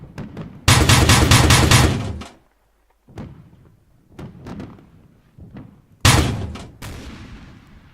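Mark 19 grenade launcher fired from a vehicle-mounted gunner position in a military video game, a loud rapid burst of heavy thumping shots followed by scattered distant thuds and another short burst.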